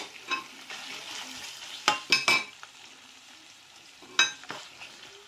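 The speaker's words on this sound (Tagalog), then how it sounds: "Gisa-gisa muna. At saka, ilunod na natin ang chicken." Onion, garlic and chicken sautéed in olive oil for chicken soup, with a soft continuous sizzle and several sharp clinks and scrapes of stirring up close.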